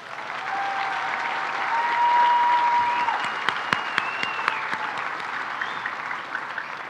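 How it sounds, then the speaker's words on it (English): A graduating high school class is applauded by the audience at a graduation ceremony in a large space, with a thick, sustained wash of clapping that swells, then holds, with a few louder individual claps near the front. "let's have a round of applause for the graduating class of 2023"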